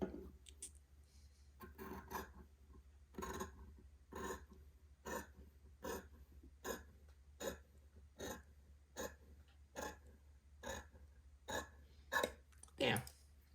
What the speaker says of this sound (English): I'm going to cut this along the fold line so that my rectangle is cut in half